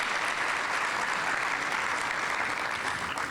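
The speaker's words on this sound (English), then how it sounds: "Let's give them all a round of applause." Dense, steady applause fills the hall as an audience honors teachers at a school district's outstanding educators ceremony, a continuous even roar of many hands with no pauses.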